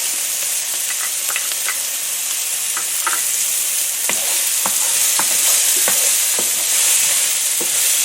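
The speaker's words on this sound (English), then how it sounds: "so now let's add the shallots" Chopped shallots sizzle loudly in a pan alongside browned lemon, a dense, close frying hiss scattered with many small crackles and pops throughout, with no talking.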